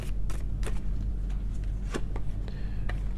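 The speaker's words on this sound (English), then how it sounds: "These cards are so hard to shuffle." Cards being shuffled close by, a series of quick riffling flutters and taps over a low background hum.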